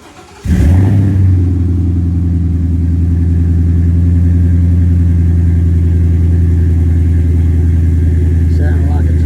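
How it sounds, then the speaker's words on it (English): A Ford 7.3 Godzilla V8 with stainless MPI exhaust cold-starts with a sharp crank and catch, then settles into a loud, steady, deep rumbling high idle that continues without a break. "Here's cold start."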